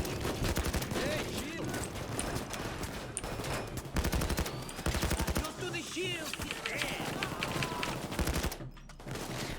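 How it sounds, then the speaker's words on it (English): Dense, continuous gunfire in a Payday 2 bank heist video game, with rapid automatic bursts and overlapping shots throughout, loud and unbroken. "Whoa, there's so much shooting."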